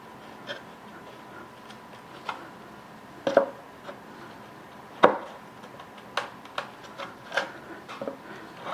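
A sharp chisel notches between saw cuts along the edge of an acoustic guitar top, giving sparse, crisp wooden ticks and taps at irregular intervals, close and fairly quiet.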